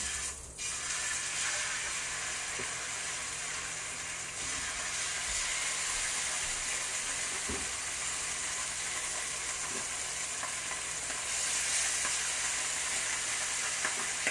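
Steelhead trout fillet frying in a pan, giving a steady bright sizzle and hiss that runs unbroken, with faint clicks and knocks underneath and no talking.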